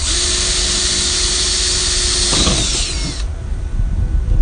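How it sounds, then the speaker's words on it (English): A power tool drills loudly and continuously while rivets are put into a new Airstream trailer subfloor, a harsh, high whine that cuts off after about three seconds, leaving quieter handling noise. "I'm just going to work on putting in, I think, two rivets first, just to make sure we're able to get through all right."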